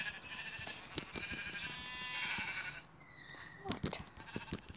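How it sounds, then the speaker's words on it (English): Sheep in Minecraft Pocket Edition bleat in a couple of wavering calls, loud and close, amid game clicks and footsteps, with a brief voice nearby. "sheep that are eating grass"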